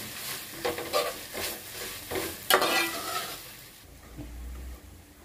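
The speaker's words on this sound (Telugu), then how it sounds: "అల్లం వెల్లుల్లి పేస్ట్ అంతా మొత్తం బాగా ఫ్రై అయిపోయాయి" Ginger garlic paste frying in a pan for Rayalaseema-style bagara rice, with repeated scraping stirs and crackling sizzle over the first few seconds, then quieting to a low hiss.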